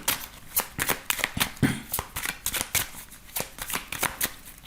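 Tarot cards being shuffled by hand up close, a rapid run of crisp riffling and slapping bursts in an uneven rhythm that continues throughout, with no speech.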